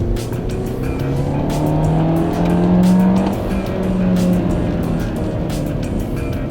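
A 2013 MINI Cooper Paceman S ALL4 engine revs hard and climbs in pitch as it accelerates, loud and close, with a steady road roar underneath.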